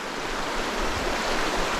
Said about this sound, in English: This is just a real shallow, fast riff.